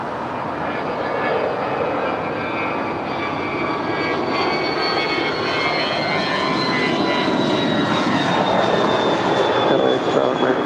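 A Spirit Airlines A320 arriving at LAX on a flight from Houston, its engines giving a steady, loud broadband roar with high whining tones that slowly glide downward, building slightly toward the end.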